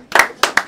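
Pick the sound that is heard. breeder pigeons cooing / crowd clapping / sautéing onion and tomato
crowd clapping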